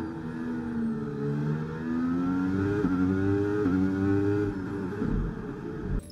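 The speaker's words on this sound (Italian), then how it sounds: "Proviamo a ridurre i giri del motore. Sali di marcia in anticipo e poi scala più avanti." A Formula 1 car in the F1 23 game at Monaco, its engine holding a high, whining rev that climbs through gear changes and then cuts off sharply near the end, loud and steady with no voices.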